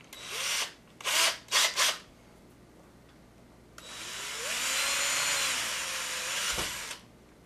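Three short bursts of a power drill whirring into CPVC pipe, then a longer continuous drilling run that winds down, loud and close with no talking.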